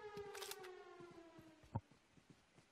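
A siren in a PUBG Mobile team deathmatch wails in a falling tone, faint and short, joined by light clicks and one brief thump.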